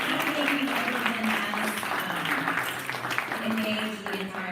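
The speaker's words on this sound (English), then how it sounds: "one more round of applause" An audience applauds after a talk, a sustained patter of clapping heard together with a voice and low hum throughout.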